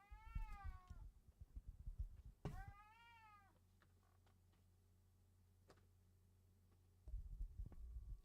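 A house cat gives two drawn-out, wavering meows close by, separated by a sharp click, then a quiet stretch of low hum before rustling noise returns.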